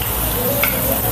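Seekh kebabs shallow fry in oil in a pan over a medium flame, giving off a steady, even sizzle with no pauses.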